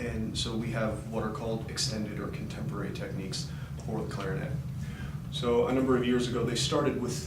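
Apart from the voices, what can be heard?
None of the usual background noises is heard.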